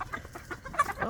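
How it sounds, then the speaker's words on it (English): Young Americana chickens about twelve and a half weeks old clucking in a short burst of overlapping calls, close and moderately loud, with a rising squawk near the end. "they are a bunch of chickens."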